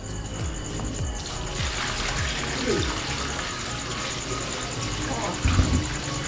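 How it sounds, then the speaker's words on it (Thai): Water pours and splashes steadily into a container for washing a vintage shirt, a continuous close gush with faint background noise throughout. "แล้วเราก็ทำการเทน้ำนะครับ"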